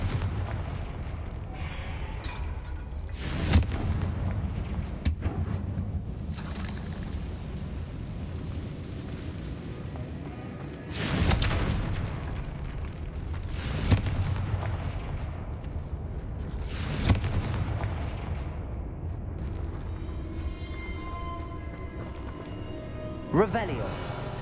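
Confringo fire spells explode in the Hogwarts Legacy video game, several loud booming blasts at irregular intervals with a rumbling decay between them, mixed with other game sound and speech.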